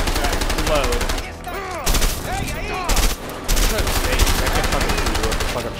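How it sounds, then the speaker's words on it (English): Rapid bursts of gunfire and explosive launcher shots from the video game A Way Out, loud and near, firing in repeated volleys with short gaps, while voices talk over the action. "Oh, shit, you have a grenade launcher."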